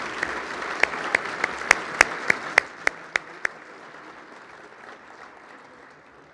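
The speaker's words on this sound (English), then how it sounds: "Please give a round of applause to the Rocky Heights athletes." Applause for athletes at a Girls and Women in Sports luncheon: a soft crowd patter with several loud, sharp individual claps close by in a regular rhythm, fading into lighter clapping.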